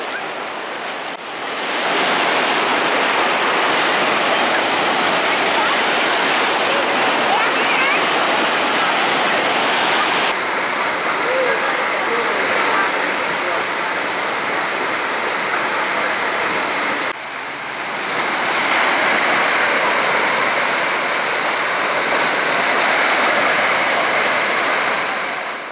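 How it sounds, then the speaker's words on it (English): Artificial waves in the wave pool at the Gellert spa in Budapest make a steady, loud rush of churning water that nearly fills the clip, with two brief dips as one surge ends and the next wave arrives. "The bathers applied different techniques in the waves, some jumping, some standing firm, some trying to surf the wave, and others simply diving into it head first."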